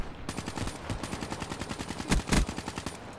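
Rapid gunfire from an online Call of Duty: Black Ops 3 multiplayer match crackles in fast automatic bursts, with two heavier, louder shots near the end, close and prominent with no talk over it.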